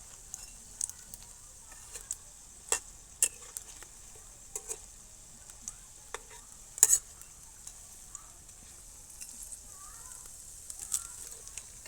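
Egg pakoras frying in oil make a soft, quiet sizzle with scattered light crackles and pops, fairly faint throughout.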